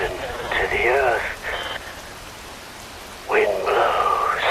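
Steady rain falls through a cutscene in the Metal Gear Rising: Revengeance video game, a constant hiss running beneath a voice that speaks at intervals.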